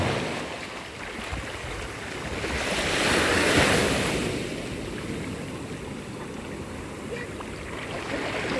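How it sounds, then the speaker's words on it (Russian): Ocean surf washing onto a beach while walking along the shore, a steady broadband wash that swells to a louder breaking wave midway and then settles back, with some wind noise on the microphone and no speech. "Давайте пройдемся по волнам, по берегу."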